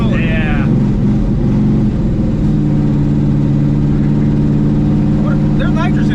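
A loud nitrous-equipped car engine runs with a deep, steady throbbing rumble and rising rev whine near the start, with people talking over it.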